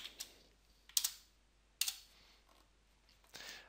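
Fingers type a short folder name on a computer keyboard in a quiet room, a few separate clicky keystrokes spaced apart and close to the listener.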